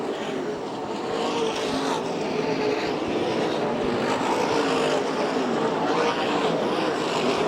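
USAC National and CRA sprint cars race on the Phoenix track at the Western World Championship, their engines producing a continuous loud roar that swells and fades slightly as the pack circulates.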